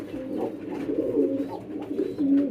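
Pigeons coo in low, throaty, repeated bursts close by, continuing steadily for a few seconds with no talking.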